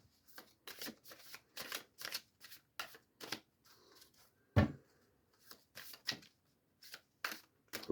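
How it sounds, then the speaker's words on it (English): Tarot cards being drawn and shuffled from a deck, a steady series of short, close papery flicks and slides repeating roughly twice a second, with one louder tap midway and no talking. "So let's continue by pulling a couple more cards."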